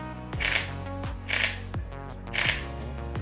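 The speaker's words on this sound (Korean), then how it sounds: "이게 지금 알파7 마크3의 촬영 셔터음입니다." Three quick, crisp shutter clicks from a Sony A7 III mirrorless camera, evenly spaced about a second apart, close and clear with no talking.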